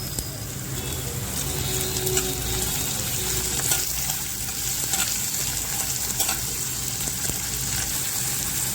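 Chopped onion and tomato fry in a pan for an okra sabzi, giving a steady, even sizzle and hiss that runs the whole time at close range with no clear pauses.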